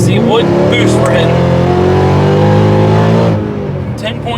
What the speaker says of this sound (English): we're gonna do a quick third gear pull and just see what boost we're hitting